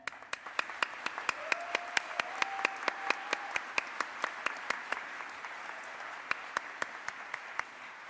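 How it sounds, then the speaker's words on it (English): An award ceremony audience at a cybersecurity championship applauds steadily. Sharp, distinct claps ring out at regular intervals over a continuous bed of hand-clapping, with a faint sustained tone running through the middle. "I would ask everyone to applaud for them"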